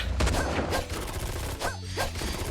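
Rapid gunfire and combat blasts from the mobile game Devil May Cry: Peak of Combat, loud and continuous, with excited voices talking over it.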